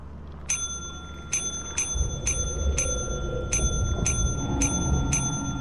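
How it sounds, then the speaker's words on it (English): A service bell at a shop counter in the video game Lethal Company dings about nine times in an uneven series of bright, ringing strikes, each with a short shimmering decay, over a low background rumble. "ring the bell until they answer the door"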